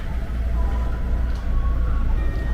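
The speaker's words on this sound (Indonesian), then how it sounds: "Asik banget nih, kita dapat KRL-nya dan langsung berangkat." A KRL commuter train, a JR 205 series, pulling away with a steady low rumble and a faint tonal whine, heard from inside the car with no speech.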